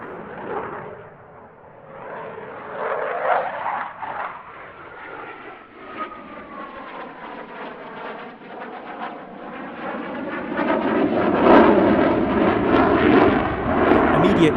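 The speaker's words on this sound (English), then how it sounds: "skimming the treetops is Flight Lieutenant James Sainty in a Eurofighter Typhoon" Eurofighter Typhoon FGR4 in a special paint scheme skims low over treetops at an airshow, its jet roar swelling steadily and growing louder and broader toward the end, with a sweeping whine shifting pitch through the pass.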